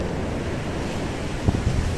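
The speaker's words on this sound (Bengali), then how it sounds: "বিশাল বিশাল ঢেউ, তার সামনে দাঁড়িয়ে অনেকে ছবিও তুলছে" Big waves surging onto the wide beach at Puri on a misty morning, a steady close roar of surf and wind noise with a couple of brief thuds near the end.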